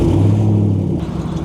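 A Chevrolet C6 Corvette, in poor running condition, has its engine turning over, a loud low rumble and whir up close that eases off toward the end.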